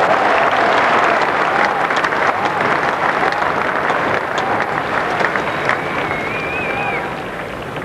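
A large crowd applauds steadily at a Lord's cricket Test, with dense, continuous clapping under a commentator's voice that slowly fades toward the end.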